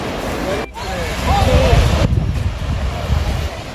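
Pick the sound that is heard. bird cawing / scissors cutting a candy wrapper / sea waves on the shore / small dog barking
sea waves on the shore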